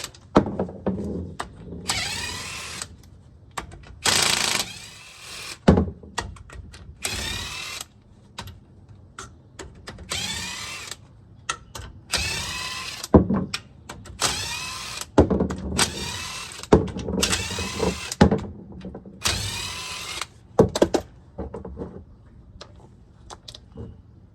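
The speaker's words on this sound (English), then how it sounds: "we're going to go ahead and remove the bolts on here" A power tool whirs in short, repeated bursts as bolts come off the rear differential cover of a Dodge Ram 1500, with pauses and light metallic clatter between runs, close by.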